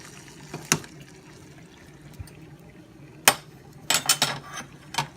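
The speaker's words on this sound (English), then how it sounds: "And now I will put the egg into the boiling pot." A few sharp clinks of metal against a pot, with a soft splash of water, then a quick cluster of clattering knocks near the end.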